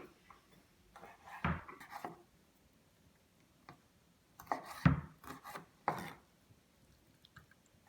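Peeled shrimp sliced into three pieces with a knife on a board, a few short scraping cuts in two clusters separated by quiet pauses, close and fairly soft.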